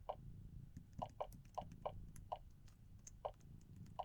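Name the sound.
lever clicking in the video game Exile III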